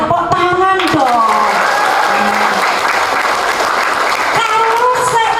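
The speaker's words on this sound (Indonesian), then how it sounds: "Tepuk tangan dong." Loud crowd applause fills a community event hall, steady clapping from many people lasting several seconds, with voices speaking over it at the start and end.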